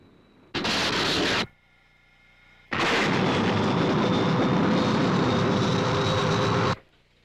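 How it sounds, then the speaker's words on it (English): A jet aircraft flying past in a 1969 science-fiction film scene, two loud roaring bursts, a short one followed by a longer sustained pass of about four seconds that cuts off abruptly. "Paul, there's another aircraft."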